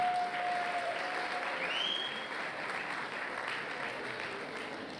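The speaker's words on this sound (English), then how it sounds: "Give them a round of applause, everyone." Audience applause at a community annual dinner for representatives of the Mashadi Jewish community, a steady dense clapping that fills the room for five seconds, with a brief whistle-like tone near the start.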